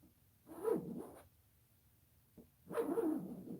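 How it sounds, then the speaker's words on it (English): An Ikon Art stencil maker makes two brief, close, quiet rasping zipper-like buzzes, separated by a short pause. "You're going to hear it kind of make that like little zipper sound."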